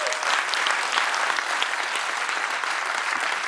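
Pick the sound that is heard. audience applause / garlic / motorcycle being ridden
audience applause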